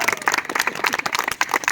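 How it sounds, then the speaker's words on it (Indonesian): Students in a junior high physical education class clap for a group, a short burst of uneven, fairly close hand claps lasting under two seconds. "tepuk tangan dong untuk kelompok A"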